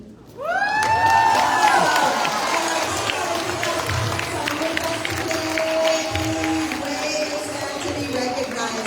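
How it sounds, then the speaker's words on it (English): Audience at a Friday school assembly applauds and cheers loudly after a student ambassador's speech, a dense sustained roar of clapping with whoops and shouting that holds steady for several seconds. "give her another round of applause as she takes her seat"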